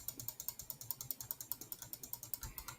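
A spinning giveaway prize wheel clicks rapidly against its ratchet, a steady run of sharp, evenly spaced ticks that gradually slow slightly, fairly faint and close.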